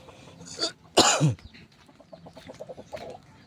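A white hen clucks close by in short bursts, with a sharp throaty squawk and softer rhythmic clucking afterward.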